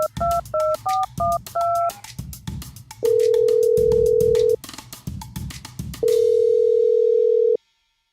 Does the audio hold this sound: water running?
no